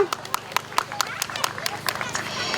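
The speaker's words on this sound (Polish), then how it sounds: "Wielkie brawa!" An audience at a foster-parenting day picnic claps in scattered sharp bursts, several distinct hand claps in quick succession, with chatter and a voice mixed in.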